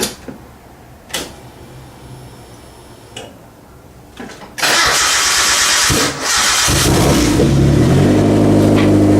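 A car's engine after clutch repair: a few clicks and clunks, then the engine catches at once and settles into a loud, steady idle with a brief dip, close up and with no talk.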